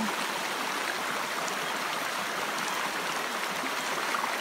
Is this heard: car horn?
no